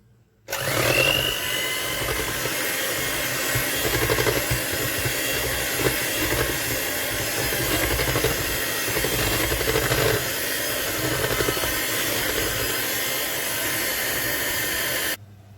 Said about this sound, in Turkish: Bütün malzemelerimi çırptım.